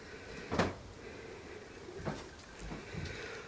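A side door on a barn housing Nigerian Dwarf goat does swings open, giving a few soft knocks and creaks spaced over several seconds against a quiet room.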